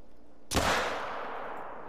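A single loud gunshot from a .357 or .454 revolver cracks out sharply after a quiet moment, its report decaying slowly into a lingering outdoor echo.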